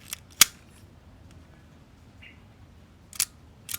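Agfa Silette I film camera shutter firing at 1/125, a short sharp click near the mic, with fainter mechanical clicks around it in a quiet room.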